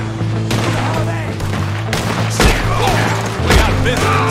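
Gunfire in the video game Red Dead Redemption 2: a sustained barrage of shots with heavy booming bursts near 2.4 and 3.5 seconds, layered over a steady low game soundtrack drone.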